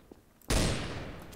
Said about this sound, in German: Warum schießt du auf mich?